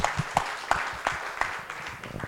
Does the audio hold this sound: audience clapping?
yes